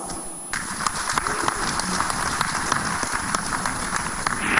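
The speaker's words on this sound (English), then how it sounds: "I'd like us to give a round of applause to our venue host, ECOWAS." An audience at an ECOWAS venue event claps in a round of applause, a continuous dense rain-like patter of many hands, fairly distant and steady for several seconds.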